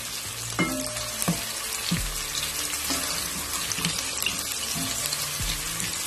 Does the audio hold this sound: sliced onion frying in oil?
yes